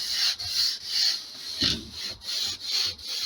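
Rhythmic rasping strokes of sanding on the wooden top of an enclosed trailer, back and forth about seven times, close and fairly quiet.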